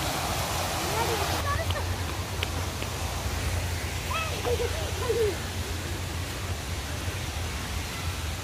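Water flows steadily at a boating pond in the Bal Bhavan grounds of Cubbon Park, Bangalore, making a constant broadband rush with a few faint voices in the background.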